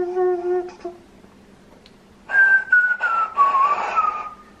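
A clay death whistle blown by mouth: a few soft tonal whistles, then a loud, harsh, breathy scream with a wavering, slowly falling pitch, sounding in bursts over a couple of seconds.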